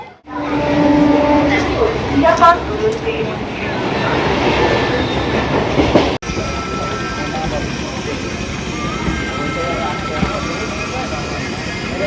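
A local train pulls into a station, giving a loud, steady rumble of rolling wagons and wheel clatter that runs the whole time, with brief voices early on.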